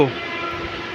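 A train crosses an old rail-only bridge over the Teesta River, a brief, steady rumble of rolling wagons with a faint horn-like tone near the start.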